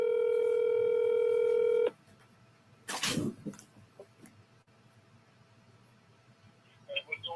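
A steady telephone dial tone sounds for about two seconds, then stops, followed by a burst of handling noise and soft rustling.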